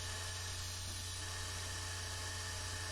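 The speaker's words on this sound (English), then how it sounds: "Get it to the right thickness on the belt sander." A belt sander grinds a Silvertone guitar part down to thickness, giving a steady, dense, high-pitched abrasive whir with a constant low hum and no breaks.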